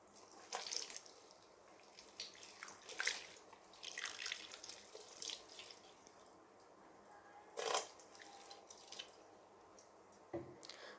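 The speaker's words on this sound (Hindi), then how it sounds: "अब पानी से हाथ पूर्ण रूप से धो लीजिए" Tap water splashes and trickles in a sink while hands are rinsed, a close, soft, irregular run of drips and squishy swishes with a few louder splashes and no talk.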